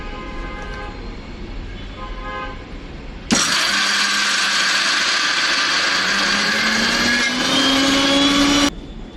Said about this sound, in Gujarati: હવે આ બધી વસ્તુને પીસી લેશું.